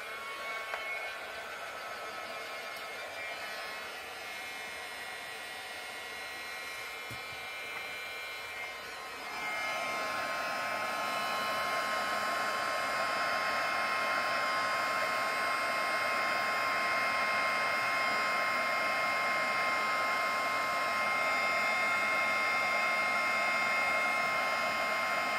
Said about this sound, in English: I'm going to take my heat gun and I'm just going to dry these